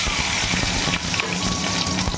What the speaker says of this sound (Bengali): কড়াইতে দেখো তেল দিয়ে দিয়েছি এবার একটু জিরে তেজপাতা লঙ্কা